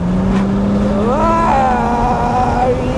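A 2010 Porsche 997 Turbo Cabrio with a 500 PS engine revs up close by, a loud exhaust roar climbing in pitch and then holding as the car pulls away, brief and forceful.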